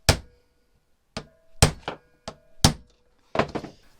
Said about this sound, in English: then you smack this end with a hammer